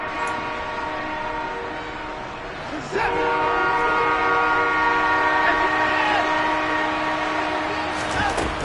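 A referee's whistle blows at an American football game during a timeout late in the first half, heard over a steady loud crowd roar. The whistle sounds as a sustained shrill tone with a sharp burst near the middle.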